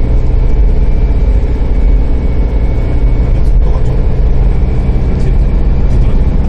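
A 2009 Kia Grand Carnival engine pulls uphill with a loud, steady low drone, heard from inside the vehicle without talk throughout.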